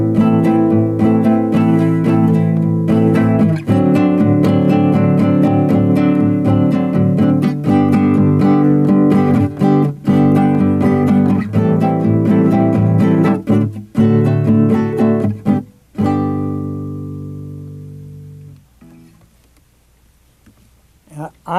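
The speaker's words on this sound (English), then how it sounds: "I'm going to illustrate a 2-bar pattern, the first bar being 3 3 2, and the second bar being 2 3 3" Acoustic jazz guitar chords strummed in a two-bar 3-3-2 then 2-3-3 rhythm, repeated for about fifteen seconds, close and loud, before fading into a ringing tail and quiet.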